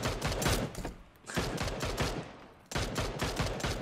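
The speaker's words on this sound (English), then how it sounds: "we are getting shots from glider" In PUBG, gunfire from a glider comes as loud rapid bursts of automatic shots, three clusters separated by short gaps, sharp and close with no talking over it.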